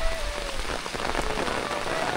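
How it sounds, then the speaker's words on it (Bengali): Sudden rain pours down steadily, a dense, close hiss of drops striking surfaces with a faint low rumble beneath, continuous and even throughout with no voices. "হঠাৎ করে আবার বৃষ্টি নামলো"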